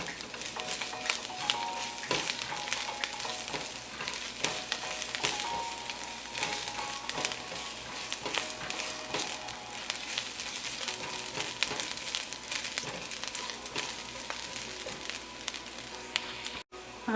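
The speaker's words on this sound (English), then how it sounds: "let's add the garlic, the ginger, and let it brown" Garlic and ginger fry in a pan for a red curry, giving a steady, close sizzle with crackling bits and occasional stirring scrapes, unbroken and moderately loud, with no talking.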